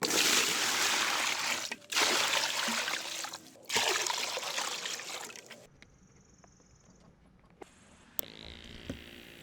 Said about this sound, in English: We got to add some water and aeration.